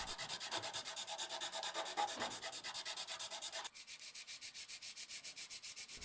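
Sandpaper rubbed over the edges of a scratchbuilt plastic part in steady, rhythmic back-and-forth strokes, coarser and fuller at first, then lighter and quicker, close up with no talking.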